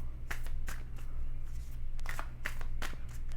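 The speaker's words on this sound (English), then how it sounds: "Let's get some affirmation cards" Affirmation cards being shuffled by hand, a run of quick papery riffles and flicks repeating over a low steady hum, close and fairly quiet with no talking.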